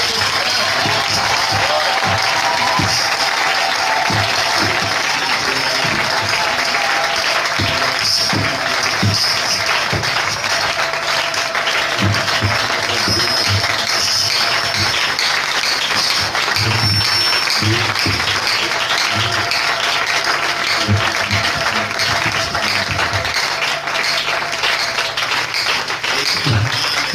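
A church congregation applauds continuously and loudly, a dense wash of clapping with scattered cheers and voices in a reverberant hall that never pauses.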